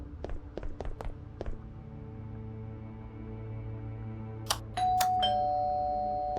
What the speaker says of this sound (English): First, I need to try ringing the doorbell.